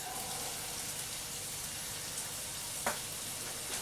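Pork mince frying in a pan with shallots, garlic and onions, giving a steady, even sizzle throughout with one brief louder crackle near the end.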